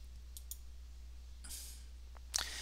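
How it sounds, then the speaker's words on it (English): Quiet, close computer mouse clicks while working in QuickBooks Online, heard as a few short sharp clicks over a low steady hum. "So I'm going to click match"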